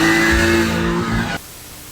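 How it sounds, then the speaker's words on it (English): A car revs hard outside the Wekfest car show as it loses control, a loud, close, strained engine roar that cuts off abruptly after a second and a half. "We're standing outside, gathering after the event when this car lost control"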